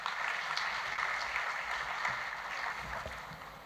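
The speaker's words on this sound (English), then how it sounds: "Can I have a round of applause for them" Audience applause at an international development-finance CEO forum, a steady dense clapping that fills the room and holds evenly at moderate volume throughout, with no voices rising above it.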